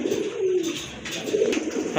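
Orange Chila pigeons coo softly in low, rolling calls, two or three phrases close by, with faint rustling and a brief knock near the end.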